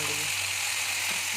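Gongura leaves and cooked chana dal hiss and sizzle in hot tempering oil as a steady, close, broadband frying crackle that runs through the whole short moment. A faint low hum lies underneath.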